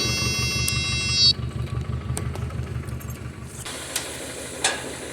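A 2000 Toyota Tacoma, brought back from the dead, runs with a steady, throbbing idle rumble throughout, and a high whine cuts out early on.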